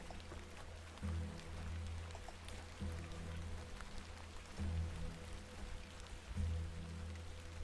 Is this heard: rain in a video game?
yes